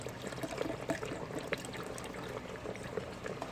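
Beef broth poured into an Instant Pot, a steady close trickle and splash of liquid running for a few seconds without pause, no voices.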